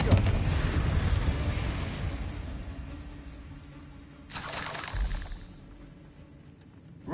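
Confringo fire spell blasts in the video game Hogwarts Legacy, two loud bursting explosions, the first rumbling out over a couple of seconds and a second blast a few seconds later, then fading.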